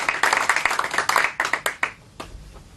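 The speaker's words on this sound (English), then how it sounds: "Give this gentleman a round of applause." Brief round of clapping from a small audience for a gentleman at a hypnosis show, a burst of crisp hand claps that thins out and stops after about two seconds.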